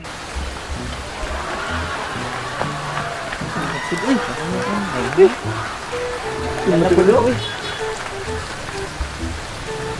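Steady rain hisses and patters continuously, with a person talking briefly over the downpour.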